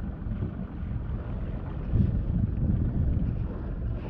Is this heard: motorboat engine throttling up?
yes